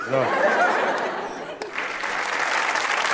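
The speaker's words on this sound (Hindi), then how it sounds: "अब ऐसी चीजों में ताली नहीं बजाया करो बेटा" Studio audience clapping and laughing on a comedy talk show, steady broadband applause throughout with chuckles and a voice briefly over it near the start.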